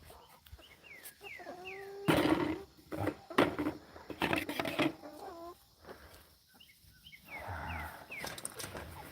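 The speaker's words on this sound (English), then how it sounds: "Hey, turkeys." Turkeys gobbling on a farm: several bursts of warbling, rippling calls come in quick succession, some loud and close, mixed with other farmyard noise.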